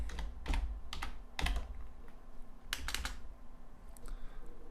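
A folder name is typed on a computer keyboard in a few short, separate bursts of clicking keys, close and fairly quiet, with pauses between them.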